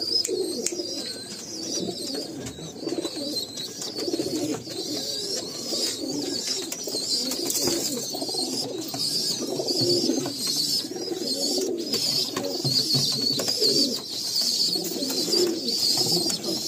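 Pigeons in a loft of breeding pairs keep up a continuous chorus of soft, overlapping cooing, steady and close. Brighter chirps sit on top of the cooing, and no one speaks.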